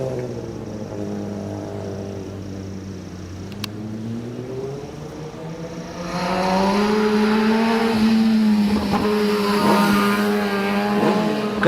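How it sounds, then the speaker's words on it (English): Kawasaki ZXR motorcycle racing up a hill climb course at Eliyakanda, its engine whining through gear changes with rising and falling pitch, loud and close, swelling sharply as it passes near. "222 is Damit Madhushankar in his Kawasaki ZXR"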